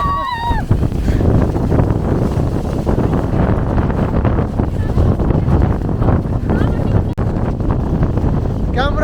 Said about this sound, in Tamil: கிட்டத்தட்ட அவ்வளோ காற்று இதுவரை நான் எங்கேயுமே ஃபீல் பண்ணதில்லை.